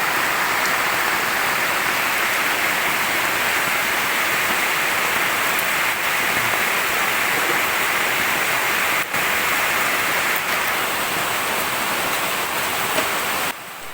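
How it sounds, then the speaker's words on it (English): Heavy rain pours down steadily on a farm, a dense, constant roar of water close by with no letup across the whole stretch and no talking. "Heavy rain. Heavy rain."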